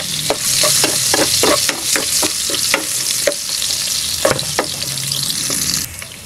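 Chili and ginger fry in a hot pan for a chicken neck adobo, with a steady sizzle broken by repeated scrapes and stirring knocks from a utensil, close and loud throughout.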